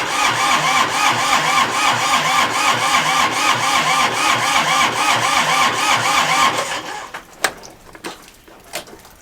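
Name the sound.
big tractor engine starting up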